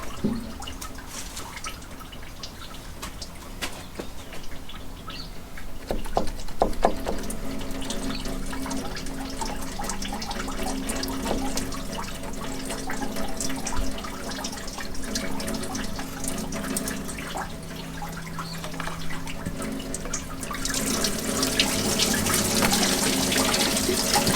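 Water gushing and dripping from an opened cooling system during a water pump change on a Unimog U1300L, a steady splashing flow that swells after the first few seconds and grows brighter toward the end.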